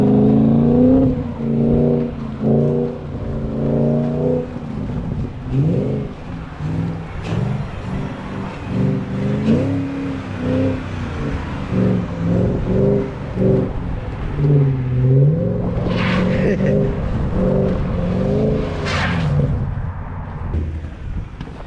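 BMW E39 540i V8 revving hard in snow while spinning doughnuts, engine pitch rising and falling in repeated surges, loud and fairly close with no talk over it.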